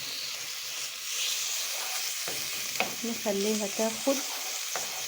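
Garlic and golden onions sizzle in a pan with a steady hiss while a spoon stirs and scrapes through them, a few clicks of the utensil near the end and brief soft speech.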